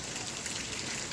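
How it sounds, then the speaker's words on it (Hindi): Heavy rain pours steadily on a roadside during a downpour, a dense, even hiss with no breaks and no voices throughout. "आज फिर रिमझिम बरसात हो रही है राहों में"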